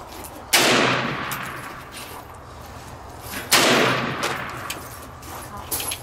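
Two loud, sharp gunshots from an M1 Carbine, fired by an eight-year-old at an outdoor target, ring out about three seconds apart, each followed by a decaying echo.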